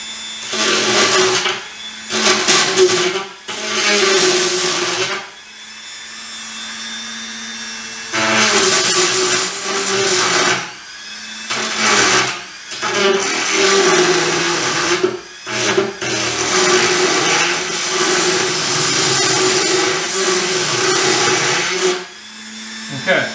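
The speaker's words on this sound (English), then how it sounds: "We're going to take our Dremel and we're literally going to open up the back side." A Dremel rotary tool whines loudly in repeated bursts of several seconds each, cutting open the back side of a car door, with short pauses between passes and some talk in the gaps.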